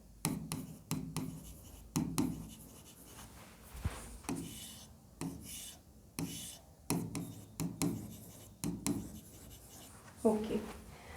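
A pen writes a total by hand on paper, giving soft, scattered scratching strokes in short bursts, quiet and close, with low background noise.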